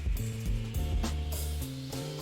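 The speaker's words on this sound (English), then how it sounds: "Hold the nut with the wrench and tighten the screw until secure." A wrench tightens a screw and nut while a metal pharmacy shelf unit is assembled, giving a continuous close ratcheting clatter with metallic ringing tones.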